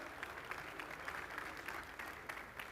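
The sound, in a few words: audience applause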